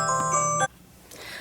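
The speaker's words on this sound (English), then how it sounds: "that was a phone call from one of my sons," A phone rings with an incoming call in a craft room, a sustained electronic ringtone melody playing loudly for about half a second and then cutting off abruptly, leaving quiet room tone.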